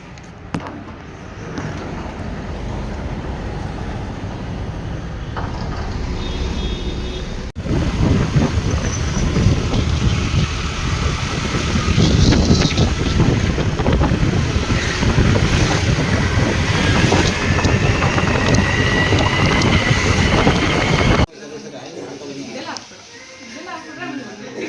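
Strong, steady wind roar buffets the microphone while riding a scooter-type motor vehicle on the road, loud and continuous with brief breaks where the rush drops out.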